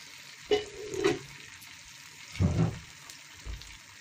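Stirring in a pot of cooked rabbit dish, with a sizzle underneath: three distinct scraping strokes, loud and close, separated by quieter gaps and no talking.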